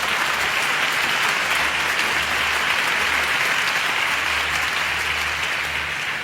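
Steady, continuous audience applause fills the room at a gathering honouring a teenage Quran reciter, dense and even throughout with no voices rising above it.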